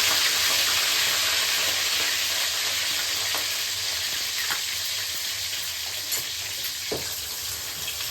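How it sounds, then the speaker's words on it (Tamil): Onions and curry leaves fry in hot oil with popped mustard seeds for a Tamil sardine fish curry, a steady loud sizzle and crackle running throughout with occasional faint clicks of a spoon and no talking. "இந்த நேரத்தில் நம்ம வெங்காயத்தையும் கருவேப்பிலையும் சேர்த்து போட்டு நல்லா பொரிச்சு."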